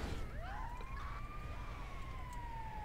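An ambulance siren in GTA V wails in a steady rising and falling sweep over a low engine rumble, loud and continuous with no talking.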